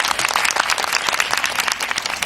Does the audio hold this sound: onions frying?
no